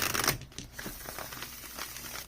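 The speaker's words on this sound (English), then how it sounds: "Oh, this deck shuffles so well. Let's just get a good little shuffle here." A tarot card deck is shuffled up close, a crisp burst of riffling and flapping cards followed by softer papery rustling and crinkling.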